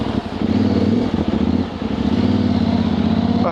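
A Yamaha Tenere 700 motorcycle is ridden off-road, its engine giving a loud, close, rumbling drone with uneven throttle surges and brief dips, as if moving over rough ground.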